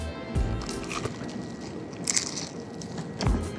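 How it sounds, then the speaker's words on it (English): Crunchy pan-fried chicken bitten into, giving a few sharp, close crackling crunches spaced apart over quiet chewing. "This is gonna crunch so well, I can tell."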